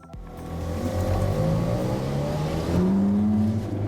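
A Ferrari 430 Scuderia and a Ferrari 458 Italia race each other, one with a sequential gearbox and one with a double-clutch, their engines roaring loud and steady as revs climb and then shift to a higher, sustained note.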